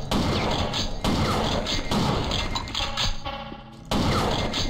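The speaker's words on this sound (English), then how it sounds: "Oh, it's a machine gun!" Heavy machine gun fire in the video game Will Rock, loud sustained bursts of rapid shots broken by short pauses, dense and close.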